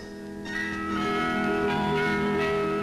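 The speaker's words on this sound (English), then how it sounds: "The carillon with its 600 bells heralds the greatest show on earth" Carillon of some 600 bells ringing at Expo 67 in Montreal, a sustained wash of overlapping tones that swells after the first half second and stays loud and steady to the end.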